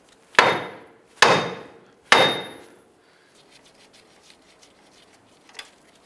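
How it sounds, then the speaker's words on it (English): A hammer strikes the upper steering knuckle on a 2002-2007 Jeep Liberty's suspension three times in quick succession, each a loud metallic bang with a short ringing decay, followed by quiet with faint shuffling and a small tap. "we're going to go ahead and bonk the upper knuckle here"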